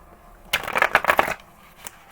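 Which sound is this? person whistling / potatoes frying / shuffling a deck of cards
shuffling a deck of cards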